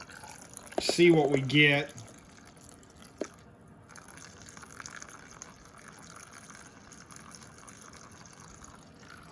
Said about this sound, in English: But let's just drain it out. Let's just drain it all out here.